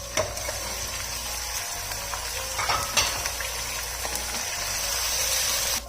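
Mutton, about a kilo, sizzles and fries in a pan with onions and ginger-garlic paste for a korma, a steady bright crackle with occasional louder stirring clatters and no talking.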